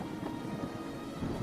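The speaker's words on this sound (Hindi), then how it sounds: "बारिश इतनी तेज है कि पत्तों के नीचे भी पानी टपक रहा है।" Heavy rain pours steadily with a low rumble of thunder beneath, a dense, even wash at moderate distance with no voices.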